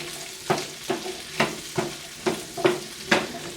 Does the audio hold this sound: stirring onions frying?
yes